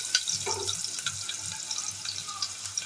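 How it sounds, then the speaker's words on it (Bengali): Chopped garlic frying in a pan for a chicken stew, a soft, close crackle and hiss with small irregular pops, fairly quiet throughout. "এবার গার্লিকটা একটু ভাজা ভাজা হয়ে উঠুক"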